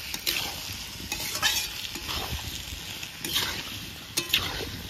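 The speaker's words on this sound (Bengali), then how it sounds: "এবার ভালো করে আলুর সঙ্গে তেলের সাথে মিশিয়ে ভেজে নেব।" Cut potatoes are stirred and fried in fish oil, bursts of scraping and sizzling coming in an irregular rhythm over a soft, constant crackle, close and moderately quiet.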